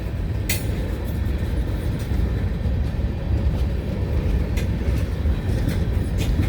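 Freight train of empty tank cars rolling past in Wyoming, a steady, close, continuous rumble and low roar with faint clicks of wheels over rail joints, constant in loudness throughout, no voices.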